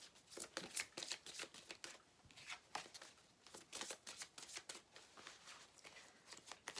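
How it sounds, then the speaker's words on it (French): Tarot-style cards shuffled and drawn from a deck, giving quiet, rapid papery riffles and flicks in a steady run of short bursts, close and soft with no talking. "on va prendre une carte pour le domaine sentimental"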